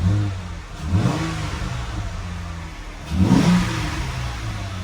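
A Jeep Wrangler JK with an aftermarket exhaust revs twice, each throttle blip rising sharply and settling back to a steady, close idle rumble.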